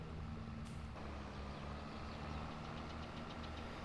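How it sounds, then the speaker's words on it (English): An underpowered tractor engine in the Farming Simulator 22 video game labours under load, a steady droning rumble with a knocking edge that holds loud and unbroken, with no voices. "the tractor's really struggling to do what it has to do"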